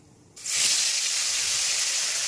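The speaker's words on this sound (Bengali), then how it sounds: "এইবারে পটলগুলো আমি তেলের মধ্যে ছেড়ে দেবো" Whole pointed gourds dropped into hot mustard oil seasoned with salt and turmeric, a sudden loud sizzle that bursts on and holds as a steady bright hiss.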